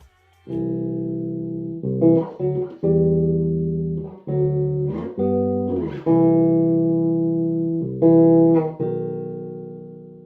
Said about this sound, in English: you can also play multiple notes on one time on the bass. What's called chord